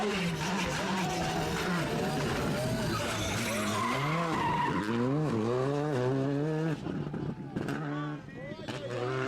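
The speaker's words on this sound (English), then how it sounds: "That engine sounds beautiful right there." A rally car engine revs hard with rising and falling pitch sweeps and tyre skidding, loud and close throughout, with a voice talking over parts of it.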